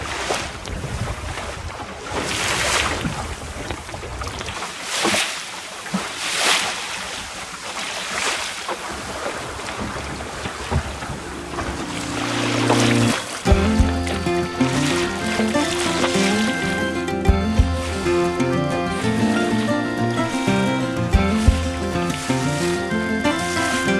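A small sailing dinghy pushes through choppy sea waves, with steady wind buffeting the microphone, water rushing and slapping against the hull, and creaks and knocks from the boat throughout, loud and close with no talking.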